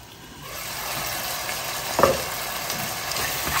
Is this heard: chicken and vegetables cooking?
yes